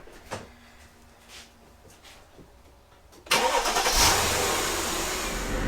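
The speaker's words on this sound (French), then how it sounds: "Je vous fais écouter un petit peu ce V8" A Mercedes 500S limousine with a V8 converted to run on E85 cranks and fires up after a few quiet seconds, then settles into a loud, close, rumbling idle.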